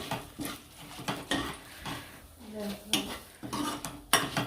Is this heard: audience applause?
no